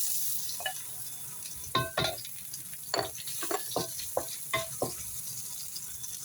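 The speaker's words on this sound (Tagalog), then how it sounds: "Igisa natin yung bawang." Garlic sautéing in a pan gives a soft frying hiss at low level, broken by a series of light scraping and tapping stirs.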